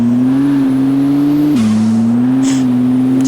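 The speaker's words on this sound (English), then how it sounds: "The turbo noise, though, I like." Turbocharged car engine in the Car Mechanic Simulator video game, a loud steady drone that dips briefly in pitch then holds, with faint high whine above and no talk.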